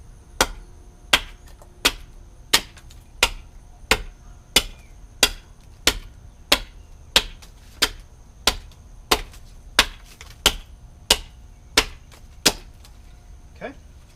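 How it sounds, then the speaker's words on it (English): A Gransfors Bruk Swedish carving axe chops cedar from a fence post while a stirring spoon is roughed out: about twenty sharp, evenly spaced strikes land roughly every 0.7 seconds, close and crisp, with a quiet voice underneath. "on these first cuts where I'm moving a lot of material, I'm going to go back on the axe back here"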